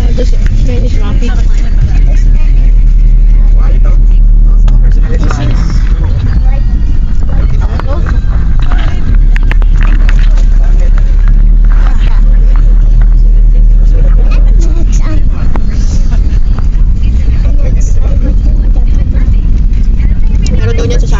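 Road traffic on the drive to Laiya, Batangas, a steady loud rumble of engines and passing vehicles heard from inside a car, with voices talking throughout.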